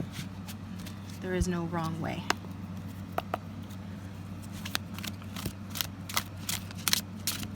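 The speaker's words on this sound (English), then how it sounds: "I don't know why I'm shuffling so much." A deck of tarot cards is shuffled in soft, scattered riffles and taps at close range, heard under a person talking.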